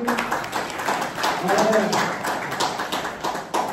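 An audience at a college gathering welcomes a chief guest with a steady round of clapping, many hands overlapping in a dense patter of moderate loudness with a few sharper claps.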